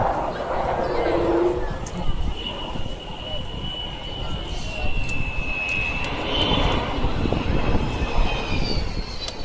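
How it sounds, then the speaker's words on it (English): An Avro Vulcan bomber powers away after takeoff at an air show, its undercarriage retracting. A loud, steady engine roar carries a rising and falling howl, with crowd chatter beneath it throughout. "As the undercarriage goes up, listen out as she powers away."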